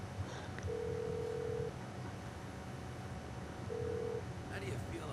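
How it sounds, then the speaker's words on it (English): A mobile phone in GTA 5 dials a contact, producing two clear, steady electronic ringback tones about three seconds apart over a faint background hum. "So yeah, I pull up my phone, contact Ursula."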